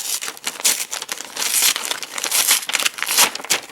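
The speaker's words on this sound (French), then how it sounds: "C'était le bruit des paillettes en fait. Un peu comme le bruit du sable." Glitter rustles and shifts inside an opened Pokémon fan letter, making a close, sandy crinkling hiss in uneven bursts, with no talk.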